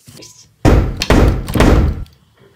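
A house door opening or shutting at a trick-or-treat gathering, heard as a few loud thumps and bangs close by, with people talking around them.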